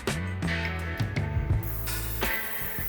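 A hotel shower head in a Holiday Inn Express suite sprays water with a steady close hiss, layered with low humming pipe tones that shift a few times.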